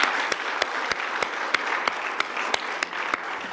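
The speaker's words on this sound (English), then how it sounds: "Just a round of applause for appreciation." A lecture audience applauds, giving a dense, even wash of clapping with a few louder individual claps standing out at regular moments, steady and sustained with no voices over it.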